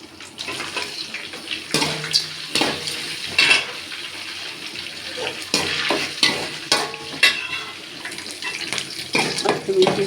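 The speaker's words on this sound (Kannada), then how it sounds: "ಹಾಕಿ ಚೆನ್ನಾಗಿ ಫ್ರೈ ಆಗಲಿ" Garlic and green chillies fry in a pan for tamarind rice, giving a close, crackling sizzle with frequent scraping stir strokes and clacks of the spoon.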